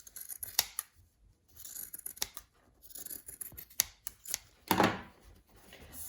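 Scissors snip and trim a cotton fabric edge for bias binding on a scrubs neckline, a series of sharp, close, irregular cuts with short quiet gaps and one longer rustling slice near the end.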